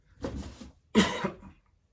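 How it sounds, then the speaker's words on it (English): Two harsh coughs, close by, with a short pause between them and no talking. "Forgive me, I got a little cough."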